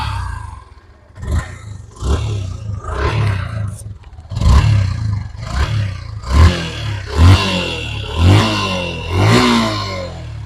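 Engine of a secondhand Yamaha Fazer V2 motorcycle, revved in a series of throaty rising bursts that settle back to idle between them, loud and close, no talk over it.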